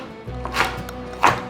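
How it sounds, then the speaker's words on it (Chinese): A knife dices red bell pepper on a cutting board in a vegan home kitchen, giving two distinct close chopping knocks over a low background hum. "把红甜椒切条状， 换一个方向切丁状"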